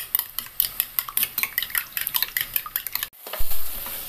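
Eggs with salt are beaten briskly in a bowl for egg biryani, a rapid run of close metallic clinks and taps lasting about three seconds before stopping, followed by a brief dull clatter.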